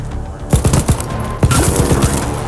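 Rapid rifle gunfire bursts in the ARC Raiders video game, a quick volley of loud sharp shots followed after a brief pause by another dense burst, with game ambience underneath.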